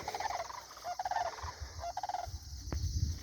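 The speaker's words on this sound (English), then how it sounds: "There's some sandhill cranes." Sandhill cranes calling in open pasture during mob mowing, a few short rattling, trilling bursts at moderate distance, repeated in spaced bouts over steady outdoor wind and rustle.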